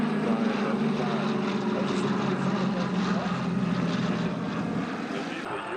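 A Bell P-39 Airacobra fighter with its propeller engine drones steadily at an airshow, a sustained mid-distance roar. An announcer talks over it throughout.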